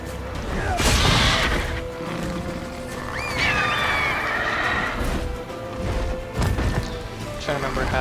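A horse in the video game The Witcher 3 whinnies loudly in a couple of rising, wavering neighs amid hoof clip-clops and game sound effects, with a voice speaking over parts of it.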